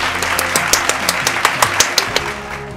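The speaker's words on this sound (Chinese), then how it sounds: "我们大家给他鼓鼓掌" Audience clapping at a children's story summer camp, a steady wash of many hands with a loose run of sharper individual claps, close and fairly loud.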